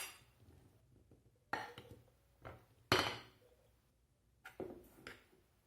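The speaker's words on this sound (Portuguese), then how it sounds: "Pego um pote de vidro, ponho a cebola e vou ponhando" Onion pieces dropped into a glass jar, giving a few separate clinks and knocks with quiet gaps between them, close and fairly faint.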